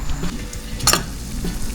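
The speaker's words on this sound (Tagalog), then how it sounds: "Kuluan lang po muna natin itong ating mga pang-aromatics" A pot of aromatics cooks on the stove, giving a short stretch of bubbling and sizzling with a brief bright clink of metal midway, no talk.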